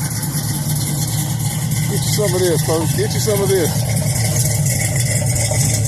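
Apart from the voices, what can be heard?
car engine idling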